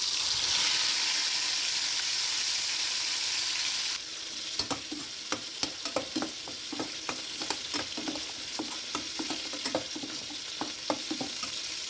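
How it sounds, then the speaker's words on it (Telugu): Crabs fry in a hot pan with a loud, continuous hiss, followed by sharp clicks and scrapes as they are stirred, crackling steadily throughout. "పీతలు ఫ్రై చేస్తాను"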